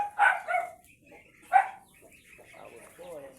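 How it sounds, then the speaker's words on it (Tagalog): A dog barks a few sharp times nearby at a rural farmyard where native ducks are kept, the barks separated by short pauses, with faint background noise between them. "Ingay po ng aso, pasensya na po kayo."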